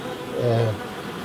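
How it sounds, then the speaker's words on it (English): Honey bees flying busily around an active beehive, carrying pollen in at the entrance, a close buzzing drone that swells for a moment as one passes nearby before fading back into the hum. "The bees are very active, as you can see."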